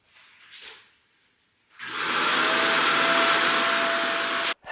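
A vacuum cleaner switches on and runs loud and steady in a family room during speed cleaning, with a high whine over a broad roar and a brief cut near the end.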